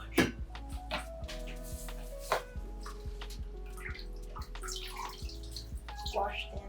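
Fresh basil is rinsed under a running kitchen tap while making pasta sauce, with steady splashing and dripping water close by and a voice talking over it.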